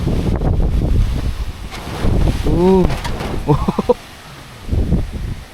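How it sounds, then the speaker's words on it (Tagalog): Gusty wind after a typhoon rumbles against the microphone in bursts at a riverside campsite, while a voice speaks briefly partway through. "Grabe lakas ng hangin"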